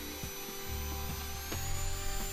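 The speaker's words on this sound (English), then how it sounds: "Now all that's left is sanding." Continuous rough rubbing and scraping of sandpaper worked over wood on a lathe, with a few sharper strokes and a steady machine whine behind it; no voices.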